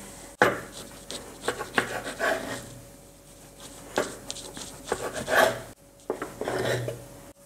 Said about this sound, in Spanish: Y ahora cortamos el pan en cuadraditos